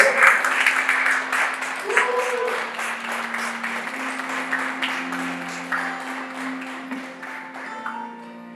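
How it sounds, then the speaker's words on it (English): Audience clapping at a conference as a speaker is welcomed, a dense burst of applause that slowly thins and fades over a steady tonal background. "Give a round of applause."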